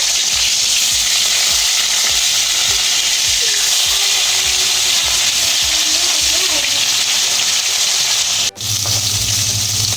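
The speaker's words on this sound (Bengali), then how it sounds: "মাছগুলো আমার ভাজা হয়ে গেছে লাল লাল করে।" Bhangan fish sizzling in mustard oil in a kadai, a loud steady fry with repeated scraping as pieces are turned, cutting off briefly before a low hum.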